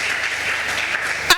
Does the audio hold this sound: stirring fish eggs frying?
no